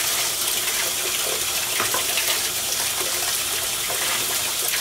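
Steaming hot water gushes into an American washing machine, a loud, continuous rushing and splashing pour that holds steady throughout, with no talking.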